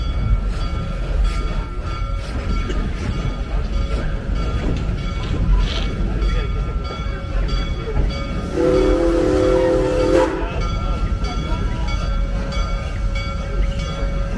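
A steady, close rumble and rattle from the Serengeti Express amusement park train at Busch Gardens Tampa, approaching its Nairobi station, runs throughout, with a brief horn blast sounding about two-thirds of the way through.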